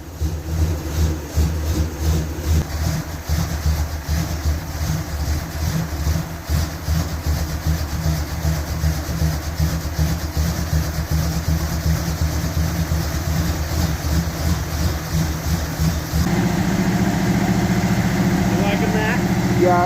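A big engine idles with a lumpy, throbbing rhythm, steady and loud throughout, its tone shifting and deepening near the end.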